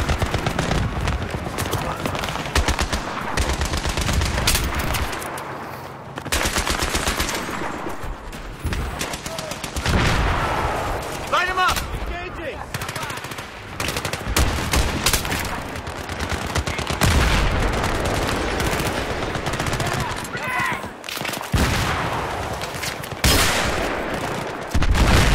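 Battlefield 3 game combat with sustained bursts of automatic gunfire, dense and loud through most of the stretch, broken by brief pauses, with shouted squad voices mixed in.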